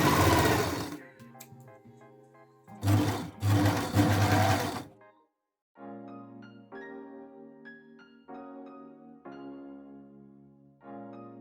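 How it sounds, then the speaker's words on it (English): Serger sewing machine stitching seams on a thrifted reverse-seam shirt: loud whirring bursts at the start and middle, then several shorter, quieter run segments with a pitched motor hum, pausing between passes. "I'm gonna serge there, line the other shoulder up, and then match up the armholes and serge along the side."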